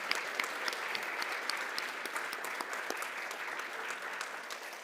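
An audience at a startup showcase applauds the winners, with sustained, dense clapping from a sizeable crowd, steady and moderately loud from start to finish and no talking over it.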